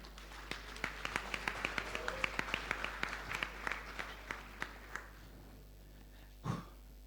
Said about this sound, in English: a round of applause for Zim host